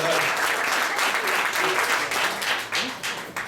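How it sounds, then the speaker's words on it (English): A comedy club crowd gives Tony a hand, with loud, steady clapping filling the room from start to finish as it begins to taper off. "Let's give a little hand for Tony."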